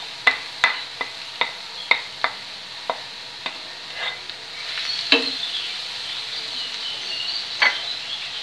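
Onion, carrots and zucchini sizzle in a frying pan while a utensil stirs them, with a series of sharp clicks and scrapes at the start and a steady frying hiss throughout.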